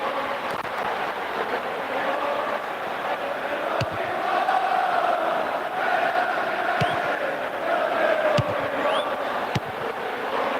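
Premier League stadium crowd swelling into loud cheering and chanting, a broad roar rising and falling with sharp bangs and whistles scattered through it, sustained throughout.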